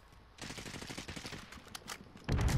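Rapid hip-fire gunshots crackle in a first-person shooter, a quick burst of shots followed by a louder, denser blast of fire at the end.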